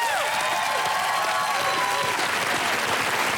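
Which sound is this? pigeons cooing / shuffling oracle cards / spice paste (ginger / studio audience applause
studio audience applause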